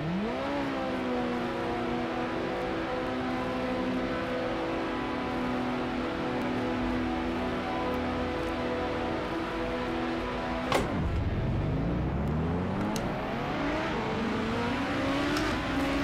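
A Lotus Exos 125 engine revving hard at the race start at Spa in a sim racing game, a steady high-pitched whine that drops sharply at a gear change, then climbs again.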